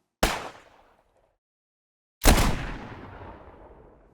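Two designed gunshots ring out, the first a sharp crack with a short tail and the second a heavier, booming blast with a long rumbling decay, loud and isolated against silence.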